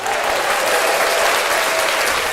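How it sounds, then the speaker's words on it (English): A crowd claps continuously, a dense, even wash of applause with no break for the whole stretch. "He deserves another round of applause."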